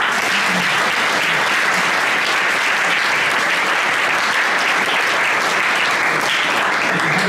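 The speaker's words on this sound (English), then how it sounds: "Let's give Scott a round of applause." An audience gives a steady round of applause for Scott Schwindaman, president and CEO of Lubrication Engineers, filling the room with dense, loud clapping that holds evenly throughout with no voices over it.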